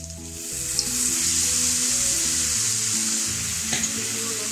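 Sweet corn frying in a pan over a high flame: a loud, continuous sizzle with stirring clatter and a couple of sharp scrapes, no voices.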